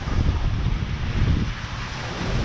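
Strong gusts from a severe wind storm roar steadily against the microphone, a dense rumbling rush that swells and eases slightly without a break, with no voices.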